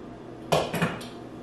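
Pots and pans knock together in a home kitchen while dinner is being cooked, a quick cluster of two or three close metallic clanks over a quiet background.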